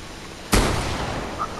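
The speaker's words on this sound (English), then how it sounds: "I hear gunshots." A single sharp bang, like a gunshot, cracks out against quiet background noise inside a building that has been attacked, followed by a brief decaying tail.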